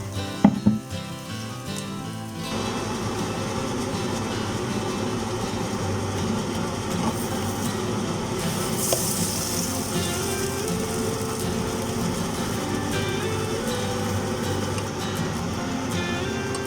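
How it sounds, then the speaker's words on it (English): A kitchen extractor fan runs steadily over a stovetop while pancakes are being cooked, giving a constant broadband whoosh with faint sizzling underneath, loud and unbroken after a few brief knocks at the start. "the extractor fan is on"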